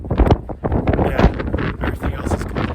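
Cold wind buffets the microphone on a high mountain west face near Shepherd Pass, loud gusty roaring in uneven surges with no other clear sound.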